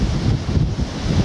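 Strong gusts of wind buffet the microphone in a continuous low roar, loud and rumbling throughout, with no voices, at about 100 metres up on a coastal walk near West Lulworth, Dorset.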